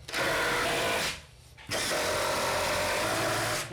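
A power drill driving a screw whirs loudly in two long bursts separated by a brief pause, close by, with no talking.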